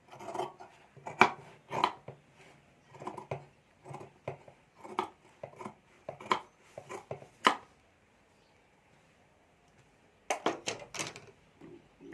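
Scissors cut through stacked fabric pockets for a multi-pocket purse, producing bursts of crisp snipping strokes, then a pause before a final quick run of cuts, close and fairly quiet, with no talking.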